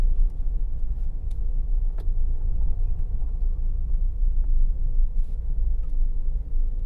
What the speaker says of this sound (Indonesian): Ini saya jalanin, mesinnya masih responsif